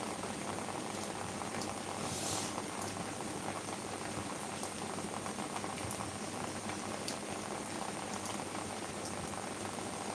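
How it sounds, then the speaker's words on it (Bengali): Heavy rain pouring down in Jessore, Bangladesh at night, a dense, even hiss of drops drumming on surfaces that holds steady and unbroken, fairly faint and with no voices. "প্রচুর বৃষ্টি হচ্ছে"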